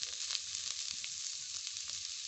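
Chopped onion, green chilli and grated carrot frying in hot oil with curry leaves, giving a steady, close sizzle with a faint crackle, no voices.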